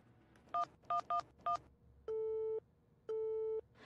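Four quick dialing beeps are followed by two long, evenly spaced tones signalling that the phone call is not going through.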